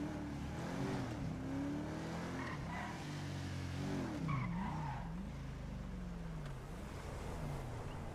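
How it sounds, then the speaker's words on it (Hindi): A Rolls-Royce in the GTA 5 video game drives with a steady engine drone and tyre skids that slide up and down in pitch, loud and continuous throughout. "रोल्स रोयस हल्की सी लग गई"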